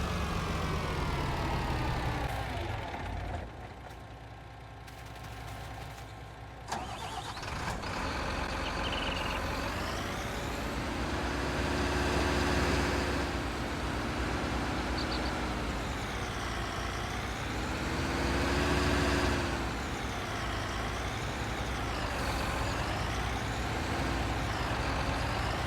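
A truck engine in Farming Simulator 19 drones loudly and continuously while driving, its revs rising and falling in slow waves after a brief dip near the start.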